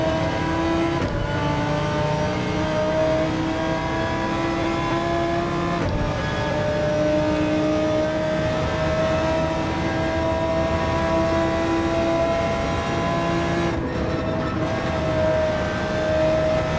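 A GT3 race car in Gran Turismo 7, mid-engined and rear-wheel drive, revs steadily and loudly with rising engine pitch through the gears, with brief dips at shifts and no one talking.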